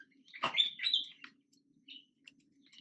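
A pet budgerigar gives a quick burst of bright, close chirps, then a few fainter scattered tweets over a low steady hum, with no talking.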